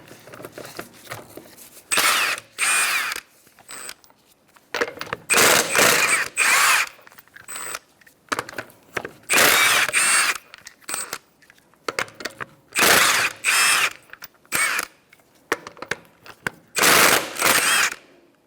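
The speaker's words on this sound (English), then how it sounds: "Using a 21mm socket, we're going to take off our wheel." A power tool with a 21mm socket zips off the wheel lug nuts on a 2014-2019 Kia Soul 1.6L in repeated loud bursts, separated by short pauses and small metallic clinks.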